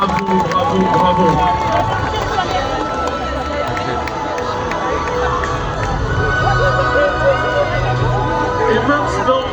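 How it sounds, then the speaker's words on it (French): Thunderous applause and cheering from the audience at a Miss Roussillon beauty pageant, a loud, continuous roar of clapping with shouts and crowd babble throughout. "Et faites un tonnerre d'applaudissements aux autres candidates"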